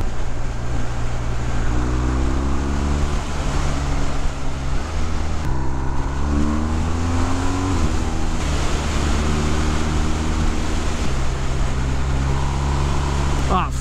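A 2019 BMW R1250R Sport motorcycle riding twisty country roads, its engine a steady droning hum with rising and falling revs as it shifts through gears, wind noise over it, and a rider talking throughout.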